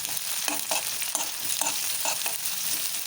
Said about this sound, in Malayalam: ഒരു 8-10 ചുവന്നുള്ളി കനം കുറഞ്ഞ് അരിഞ്ഞത് ഇതിലിട്ട് നന്നായി വഴറ്റിയെടുക്കാം.